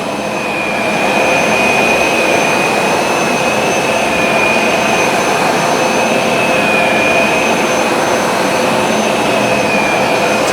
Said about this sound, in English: now let's go to dry only. It's not putting any solution down. We're only drying when we go forward and back.